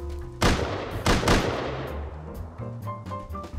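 An automated turret fires inside a shop in the video game Rust: two loud, close bursts of gunfire ring out about a second apart, each trailing off into a fading echo.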